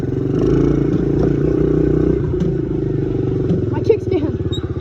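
A dirt bike engine runs steadily close by, its low drone holding throughout while several people talk over it.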